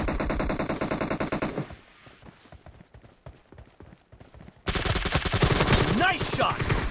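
Rapid automatic gunfire in the mobile battle-royale game PUBG Mobile: loud, steady bursts of evenly spaced shots, a quieter stretch of scattered distant pops, then another close sustained burst.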